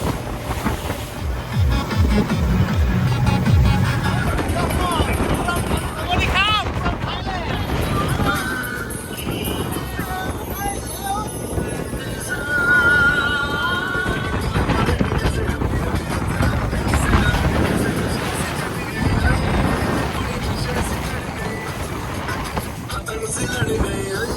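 A speed boat runs across open water off Montenegro. Steady wind buffets the microphone over a droning engine, and water rushes and slaps against the hull continuously and loudly.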